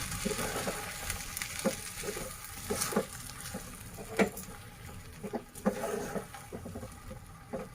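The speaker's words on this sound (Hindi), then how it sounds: "मैं इसमें गरम घी शामिल कर रही हूँ और फिर हम इसको अच्छे से मिक्स करेंगे" Hot ghee poured into Sindhi sweet milk zarda rice gives a soft, steady sizzle and crackle, broken by a few sharp clinks and stirring sounds of a utensil against the pot.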